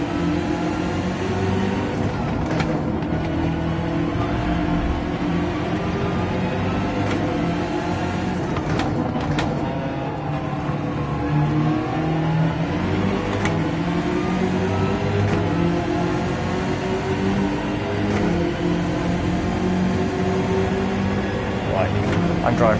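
A car engine hums and revs steadily through a drive in Gran Turismo 7, with occasional gear shifts, running under continuous talking throughout.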